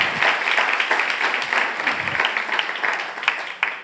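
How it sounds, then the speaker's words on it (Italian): Audience applause fills the room with steady, dense clapping that holds throughout, rising and falling slightly, loud and close, with no talking over it. "un applauso a lui, eh, no a me"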